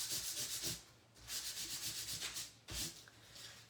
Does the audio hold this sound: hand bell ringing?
no